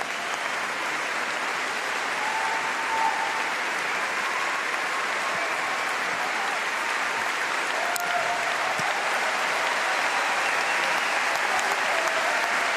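Spectators at a men's singles SL3 semifinal in para badminton in Paris applaud both players, sustained even clapping from a large crowd that carries on steadily throughout.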